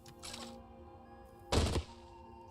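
A single mortar fires in the Caves of Qud video game, one short, loud thunk over a quiet backdrop of faint game ambience.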